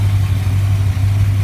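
A 1966 Plymouth engine runs with the choke on and timing set by ear, giving a close, loud, steady idle with a deep, unbroken hum. No voices.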